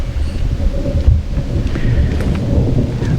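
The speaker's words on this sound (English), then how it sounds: "hear that thunder?" Thunder rolls as a deep, steady rumble through a rainstorm, loud and continuous across the whole stretch with no voices.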